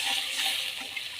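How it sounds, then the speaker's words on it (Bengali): Water pours steadily into a pan of cooked-down ginger and green chili spice paste for a fish curry, a continuous hissing gush heard close up with no talk. "এবার জল দিয়ে দিচ্ছি।"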